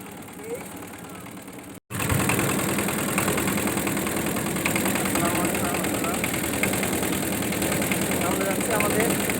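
Boat engine running at a steady idle, a constant loud mechanical drone that starts after a brief cut near the beginning and continues throughout, with people talking over it.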